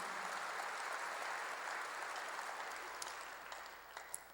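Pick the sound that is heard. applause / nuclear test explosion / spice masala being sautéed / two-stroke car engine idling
applause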